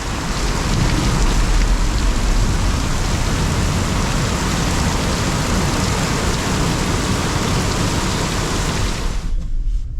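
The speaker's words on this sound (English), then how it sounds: "Now the main line of the storm has gotten here." Heavy storm rain pours down in a loud, steady roar of broadband hiss, unbroken for nearly the whole stretch before cutting off abruptly at the end, with no voices.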